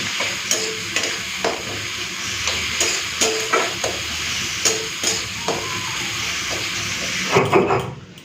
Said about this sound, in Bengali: এরপরে লাল করে ভেজে নেবো আটাটাকে